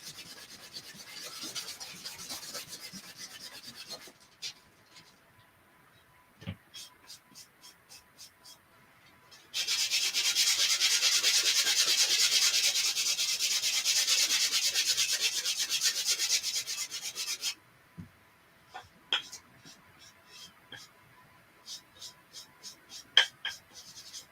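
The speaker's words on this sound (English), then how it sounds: "And I'm going to sand these, see what happens." Sanding scuffs the shine off a craft surface before painting: short scratchy strokes, then a long continuous loud rub, then more brief strokes.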